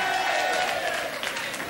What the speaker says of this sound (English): there's a loud amount of applause and a lot of cheering